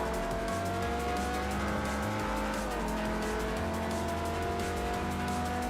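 Racing cars, including a Lamborghini, roar loudly and continuously in Forza Motorsport 4, with engines shifting through gears and tires squealing throughout.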